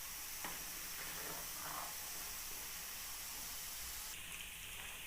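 Amla-infused hair oil sizzles steadily in a pan on a stove, a dense continuous hiss and crackle of bubbling oil, fairly close and without talk.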